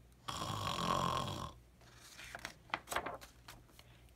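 A voice imitates snoring with one long rasping drawn-in snore, followed by quieter breathy noises and small rustles.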